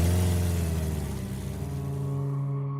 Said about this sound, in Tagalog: Habang sakay kami ng motor at binabagtas ang daan pa uwi,